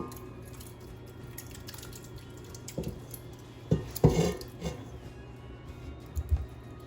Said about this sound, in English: add the sauce mixture to the cooked pasta along with the Parmesan cheese and mix that together real good